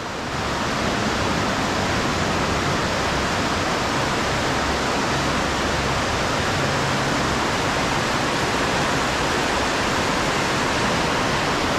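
Fast-running river water rushes in a loud, unbroken roar that fills the whole stretch without letting up.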